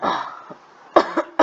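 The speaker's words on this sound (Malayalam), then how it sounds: "ചുമ" A person with a heavy cold coughs close up: one rough, drawn-out cough followed after a pause by a quick series of short, sharp coughs.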